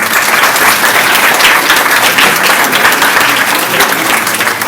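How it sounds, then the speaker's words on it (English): Sustained, dense audience applause fills a hall at a commemorative event honouring Quaid Jinnah, steady and loud throughout with no pauses or talk. "they deserve a big round of applause"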